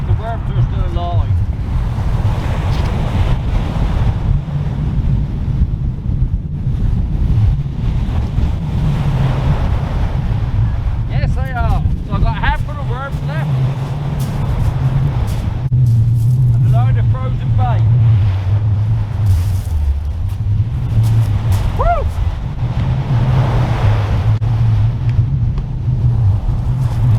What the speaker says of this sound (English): Didn't know the wind was going to be this hard.